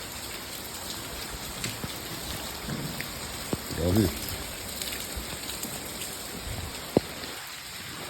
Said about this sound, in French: C'est un orage, quoi, grosse pluie, éclair.